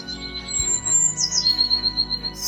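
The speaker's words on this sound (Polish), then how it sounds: "Ptaki zaczynają śpiewać i wracają z dalekich krajów." Birds sing in spring in a Polish children's educational cartoon: thin high chirps and whistles over a soft musical background, moderately loud and without speech, lasting a couple of seconds.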